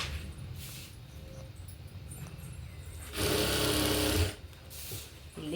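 A sewing machine stitches a sleeve onto a ready-made dress in one loud, steady whirring burst of about a second, with quieter handling noise and soft rustling before and after.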